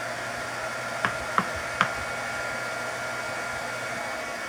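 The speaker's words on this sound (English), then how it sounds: "I'm going to go ahead and hit this with my dryer." A handheld hair dryer blows with a steady, close whoosh for several seconds while a decorated craft piece is dried, with a few sharp clicks early on.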